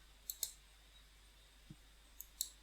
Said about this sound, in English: placing the wells by clicking with the mouse inside the aquifer